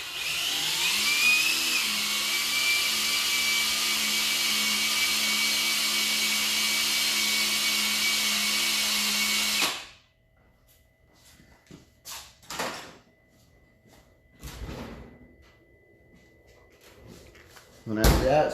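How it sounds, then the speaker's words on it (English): A mini buffer, a drill fitted with a pad and loaded with buffing compound, polishes car paint during a paintless dent repair. It gives a steady, loud whirring drone for about ten seconds, then cuts off, leaving scattered handling knocks. "apply a little bit buffing compound to my buffer here, my mini buffer."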